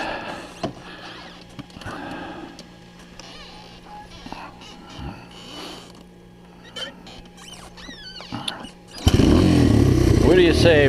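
A Honda XR200 motorcycle engine, being used to run a water pump, bursts loud and close near the end after quieter background clatter, with the throttle blipped to keep it from stalling.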